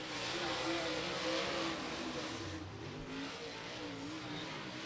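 Super late model stock cars race around a short-track speedway, their engines droning and revving in a continuous roar that rises and fades as they pass at a distance.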